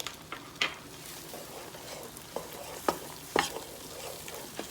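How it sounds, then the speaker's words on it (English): Minced garlic sautéing in melted butter in a Power XL cooker, a soft steady sizzle broken by sharp scrapes and taps of a utensil stirring the pan, fairly close and with no voices. "we're gonna add in our minced garlic. So we're gonna add this in. And we're gonna saute these until they get a nice golden brown"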